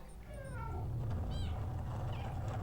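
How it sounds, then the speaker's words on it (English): Cat meows from a cat in the video game Stray, a couple of short rising-falling calls early and a brief one mid-clip over a steady low game rumble. "That trophy there, a little chatty, that's for meowing 100 times."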